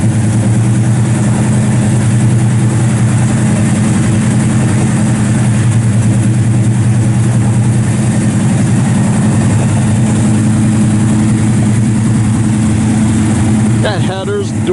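A 1967 Chevelle SS 396 with headers, dual exhaust and Flowmaster mufflers idles close by in a loud, steady, lumpy low rumble throughout, with faint voices near the end.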